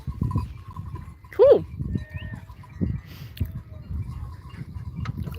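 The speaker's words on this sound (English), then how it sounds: "There's a sheep though." A single sheep bleat rises briefly over rough outdoor rumble and scattered thumps on an Austrian Alps hiking trail, fairly close and short.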